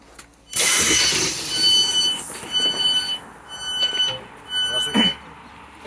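A Southeastern train bound for Slade Green, heard from inside the carriage as a steady running rumble with a high electric whine, under a spoken onboard announcement.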